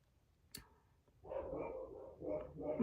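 Several dogs bark indoors after a short quiet stretch with a faint knock, a fairly soft but steady burst of repeated barks and yips with no speech over them.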